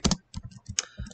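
Quick keystrokes on a computer keyboard, a short burst of close, crisp clicks with a brief pause partway through.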